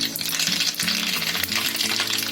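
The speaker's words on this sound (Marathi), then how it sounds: "आपलं तेल तापलंय, आता त्याच्यामध्ये मोहरी टाकते." Mustard seeds and asafoetida sizzle in hot oil for a tempering, giving a close, steady hiss with scattered crackles and a low hum beneath.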